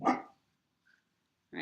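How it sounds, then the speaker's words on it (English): A loud pet dog named Kaya barks once sharply up close, then falls quiet before a second bark begins at the very end, with a brief word spoken in between. "My apologies for the loud dog."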